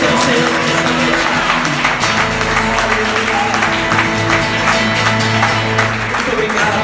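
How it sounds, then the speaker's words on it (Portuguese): A church congregation claps loudly during an evening worship service, with steady applause mixed with sustained keyboard music and some voices. "Você pode aplaudir bem forte a presença do Senhor nessa noite."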